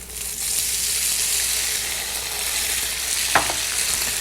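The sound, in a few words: tofu chunks pan frying with ginger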